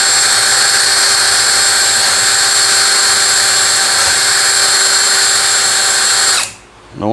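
A drill-driven hone scuffs the cylinder wall of a Craftsman engine, a steady high whirring grind that runs continuously for about six and a half seconds before cutting off abruptly into near silence.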